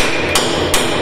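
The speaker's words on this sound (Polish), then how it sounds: "zacząłem to, o, wszystko młotkiem tłuc" A hammer strikes the rusty body panel of a Ford Transit car transporter twice, sharp metallic bangs about 0.4 seconds apart over a steady background hum.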